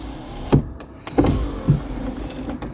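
An electric window motor on a Lotus Excel runs in several short bursts, close and loud, each a whirring strain, with pauses between them; the window regulator is stuck.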